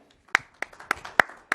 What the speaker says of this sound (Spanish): Podemos dar un aplauso por ese concepto, ¿eh?